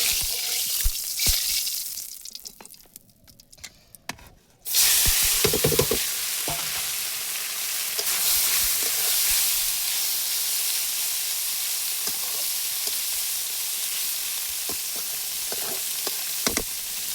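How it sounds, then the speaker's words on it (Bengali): Small chuno fish drop into hot oil with a sudden loud burst of sizzling that continues as a steady, close hiss, broken by light stirring taps and scrapes; before that come a few seconds of quieter kitchen clatter. "এই চুনো মাছগুলোকে ভেজে নিতে হবে"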